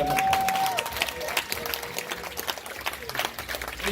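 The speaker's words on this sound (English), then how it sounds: "Please give me a round of applause." An audience applauds, scattered claps of moderate density rising and falling unevenly, with a brief tonal sound at the start and faint voices mixed in.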